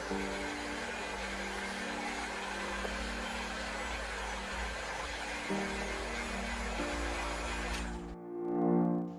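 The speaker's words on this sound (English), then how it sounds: "Then I just use a heat gun." A heat gun blows steadily on a Ford Mustang Mach-E side window louver, a continuous airy roar with a motor hum that runs unbroken, then cuts off near the end, leaving a brief hollow thump.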